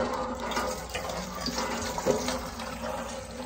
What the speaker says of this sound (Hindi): मैं आ गई हूँ नलके पे पानी भरने के लिए